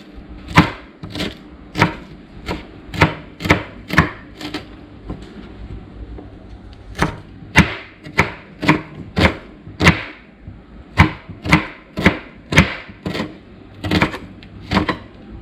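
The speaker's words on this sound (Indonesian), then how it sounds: "Bawang merahnya dipotong halus gitu ya." A knife chops shallots finely on a board in sharp, regular clicks, two bursts of steady rhythmic strokes with a brief pause between them, close and clear.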